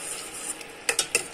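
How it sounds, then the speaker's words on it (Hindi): Chopped green chilies are stirred in a cooking pan for soya keema chaap over a soft, steady sizzle, with three sharp utensil clinks against the pan near the end. "थोड़ा चलाएंगे इसे।"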